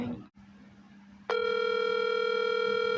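A telephone ringback tone begins as a call is placed, a steady, loud electronic tone holding after a brief quiet patch, following a faint lower hum and a short burst of something at the very start.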